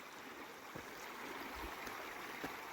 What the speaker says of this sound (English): Here's the second time we have to cross the creek.